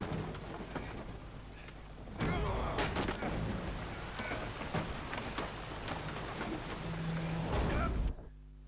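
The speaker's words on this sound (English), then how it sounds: "Didn't bargain for no storm." A storm at sea batters a boat in The Witcher 3, with dense rain hiss, wind and heavy surges that jump louder partway through and then cut off abruptly near the end.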